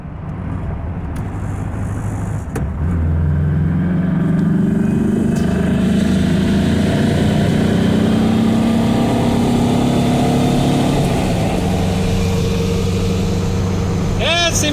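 Car engine accelerating under load while driving onto a freeway, a loud, steady rising drone with road rumble that holds constant, heard from inside the vehicle.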